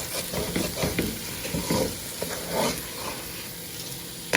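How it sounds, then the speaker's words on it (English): Spoon stirring yellow rice with sausage in a hot frying pan, with repeated scraping strokes over a steady sizzle, close up and with no one talking. "I'm going to just mix the rice up for about 2 minutes."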